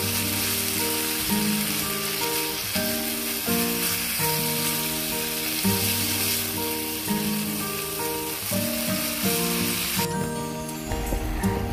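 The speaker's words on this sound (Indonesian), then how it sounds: "Nah, terus kita masukkan dagingnya. Kita tumis lagi sampai mateng ya" Meat being stir-fried in a pan for a kwetiaw dish with eggplant gives a steady sizzle throughout, partly covered by loud background music with a melody.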